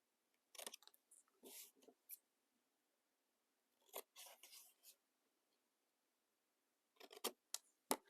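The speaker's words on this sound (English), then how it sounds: "I'm going to cut that corner off." Scissors snipping the corner off a book page, several short crisp cuts and paper rustles in small clusters, close and quiet with silent gaps between.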